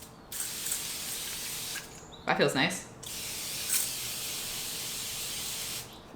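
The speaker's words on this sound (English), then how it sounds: "spray this card for a hidden message" A face mist bottle sprays onto a paper card in a few short hissing bursts, one louder and longer puff in the middle, close up, with someone speaking briefly around them.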